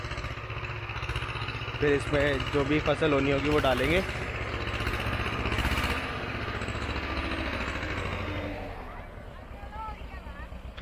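A tractor ploughs a village farm field, its engine a steady, loud, close rumble that runs throughout while someone talks over it.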